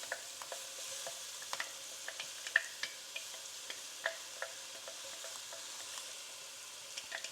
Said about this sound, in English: Now we're going to add the ginger, garlic and chili that we crushed and made it into a paste to this.